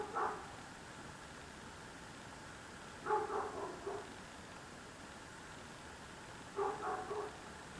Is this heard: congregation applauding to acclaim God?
no